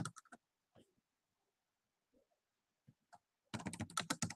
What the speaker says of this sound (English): I'll just type, no worries.